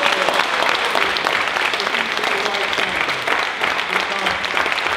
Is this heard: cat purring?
no